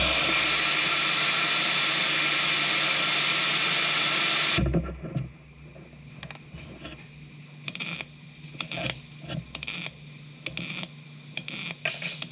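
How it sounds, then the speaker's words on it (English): Compressed air blasts a steady loud hiss onto a thin MIG-welded metal panel to cool it, then cuts off, leaving quieter scattered handling clatter. "After a little bit of welding, I like to cool the panel down with compressed air."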